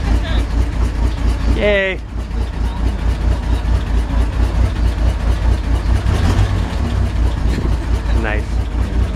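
A 1966 Chevrolet truck engine cranks briefly, catches and settles into a loud, steady idle, while people nearby cheer and speak over it.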